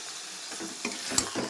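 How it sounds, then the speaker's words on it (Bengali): Mutton pieces with spices, turmeric and a little salt are stirred and fried, a soft, quiet sizzle with a few scraping stirs against the pan. "ভালো করে এটাকে নাড়াচাড়া করে নেব। তো কিছুক্ষণ কষে নেওয়ার পর এই কালারটা এসেছে"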